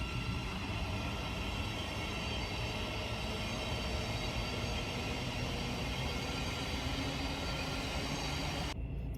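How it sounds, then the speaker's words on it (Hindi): A train rolls past close by near a station, a loud, continuous rumble and rattle of railcars that fills the whole stretch and cuts off abruptly at the end. "ये मेरे बिल्कुल सामने से ट्रेन गुजर रही है, स्टेशन के बिल्कुल पास हूँ मैं।"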